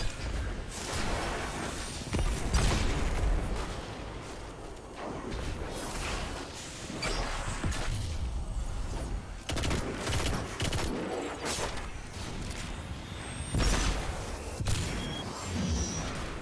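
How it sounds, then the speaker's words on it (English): Grenades burst and rapid gunfire rattles nonstop in a Destiny Grandmaster Nightfall firefight, dense overlapping blasts and shots with whooshing effects and no pauses. "That is a lot of grenades."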